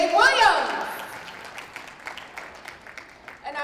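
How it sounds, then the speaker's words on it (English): A voice speaks briefly at an awards ceremony. Scattered audience applause follows, soft and diffuse, and tapers off over a few seconds. "A round of applause once again."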